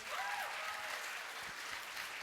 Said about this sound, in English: Round of applause for Destiny Bison.